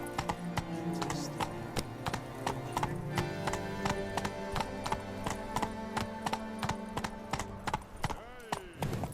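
Hooves of Roach, a horse in The Witcher 3 video game, clip-clopping in a steady fast rhythm, with a whinny near the end and a faint voice in the background.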